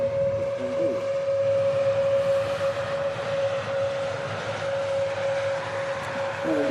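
A continuous loud roar of airliner engines, a Turkish Airlines A321neo and an Aer Lingus ATR 72, at Manchester Airport, with a steady tonal whine over broad rushing noise throughout.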